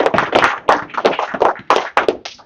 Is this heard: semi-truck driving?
no